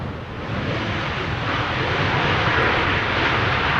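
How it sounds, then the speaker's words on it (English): Close and loud, a KLM Embraer regional jet lands in windy conditions at Amsterdam Schiphol, its engines a broad roaring rush that swells steadily, with no voices. "7-3 KLM Embraer in the meantime landing here in the foreground"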